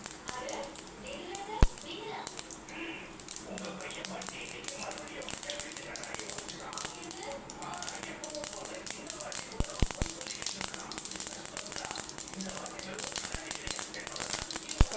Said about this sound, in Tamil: கடுகு பொரிஞ்சதும்